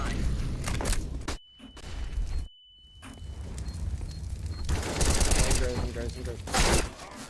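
Counter-Strike match audio with a flashbang detonation and its lingering high ringing, followed by dense bursts of rapid gunfire and booming shots, loud and close, with short gaps of near silence between volleys.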